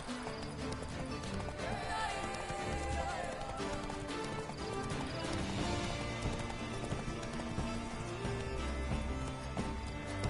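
Rhythmic hoofbeats of a horse galloping in The Witcher 3 video game, steady and continuous under a dense layer of game music and ambience.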